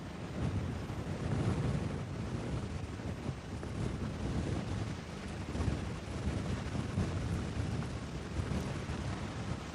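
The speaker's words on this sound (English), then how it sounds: "especially with how hard this wind is blowing right now" Strong wind gusting across an open golf course during a women's amateur match, a steady broadband roar with buffeting on the microphone throughout, loud and unbroken with no talk.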